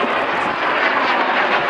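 A Gloster Meteor jet powered by a Rolls-Royce Derwent engine passes at an airshow, giving a loud, steady jet roar that dominates with no voices over it.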